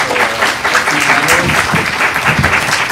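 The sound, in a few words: audience applause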